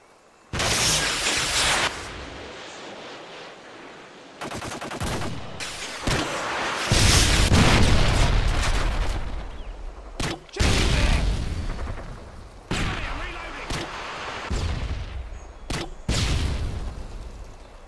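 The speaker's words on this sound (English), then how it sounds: "Tossing stun grenade. Target neutralized!" Stun grenade going off in a video game firefight, several loud booming bursts and sharp blasts in quick succession with ringing decay between them, close and intense.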